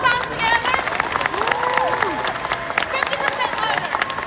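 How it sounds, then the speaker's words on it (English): Convention audience at a Lord of the Rings fan expo panel in Philadelphia clapping their hands together, a broad mass of applause under a voice speaking over it. "Slap those hands together."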